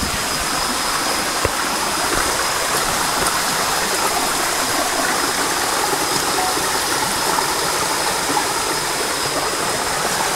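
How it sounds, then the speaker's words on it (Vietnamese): A flowing mountain stream on the grounds of Phật Quang pagoda gives a loud, close, continuous rushing wash of water that stays even from start to finish. "đây có một con suối nữa"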